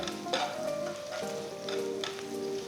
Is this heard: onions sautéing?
yes